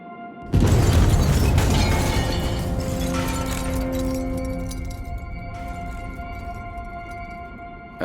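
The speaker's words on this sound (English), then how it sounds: "an explosion ravaged the tower block which is home to the Norwegian Parliament" Bomb explosion at a tower block in Oslo erupts with a sudden loud boom, followed by a long roaring, rumbling decay and ringing tones that slowly fade over several seconds.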